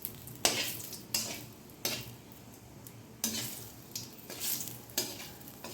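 Panch phoron spices fry in hot oil for a pea dal, a soft sizzle under repeated scraping stirs of a spoon against the pan, each stroke rising and fading.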